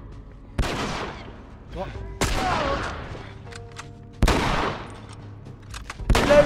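Heavy shotgun blasts boom in a The Last of Us firefight, several sharp loud shots spaced about two seconds apart with ringing tails, while someone shouts in alarm between them.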